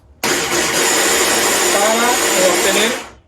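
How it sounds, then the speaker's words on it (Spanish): A kitchen blender switches on abruptly and grinds quinoa-based ingredients with cinnamon into a smooth mixture, a loud, steady whirring motor roar that holds for about three seconds and then stops. "Vamos a moler todo esto"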